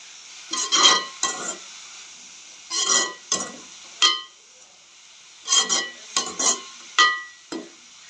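Onions frying in oil as salt is stirred in, heard as repeated brisk scraping bursts of a spoon against the pan in uneven clusters separated by brief quiet gaps, close and clear with no talk.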